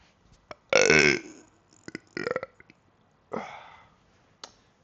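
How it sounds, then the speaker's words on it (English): A man lets out a loud, drawn-out burp close to the microphone, followed by a few softer throat and mouth noises and another brief belch, with quiet gaps between. "burp."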